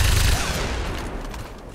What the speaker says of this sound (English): Eat my machine gun ass.